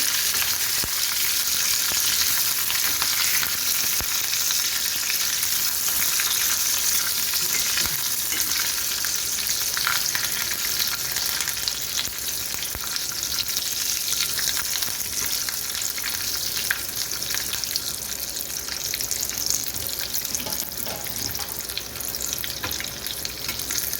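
Curry leaves and cumin seeds frying in hot oil in a pan, a loud continuous close sizzle with occasional stirring, steady for the whole stretch with no talking.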